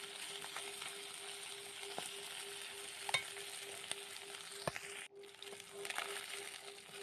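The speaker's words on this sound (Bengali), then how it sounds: "মাছের কিন্তু এখন এক পাশটা ভাজা হয়ে গেছে আর এক পাশটা উল্টিয়ে দিয়েছি যাতে দুপাশটা সুন্দরভাবে ভাজা হয়ে যায়" Tangra fish frying in hot oil, turned to cook both sides: a steady close crackling sizzle throughout, with a few sharp clicks and one brief dip in the middle, no one talking.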